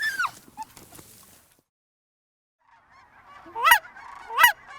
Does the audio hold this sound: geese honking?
yes